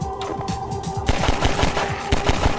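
A submachine gun in the video game Half-Life 2 fires rapid bursts at close range, a dense rattling stream of shots that grows louder after the first second, with no talk.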